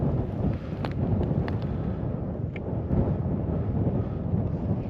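Strong wind gusting across a frozen lake during ice fishing on Red Lake, a steady low rumbling roar buffeting the microphone, loud and continuous with no voices.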